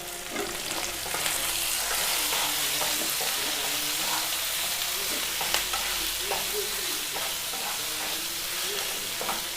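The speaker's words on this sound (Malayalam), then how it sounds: "നല്ല മിക്സ് ചെയ്യുക." A curry seasoned with turmeric and salt sizzles steadily in a pan while a spoon stirs it, with repeated scraping clicks over a continuous close frying hiss.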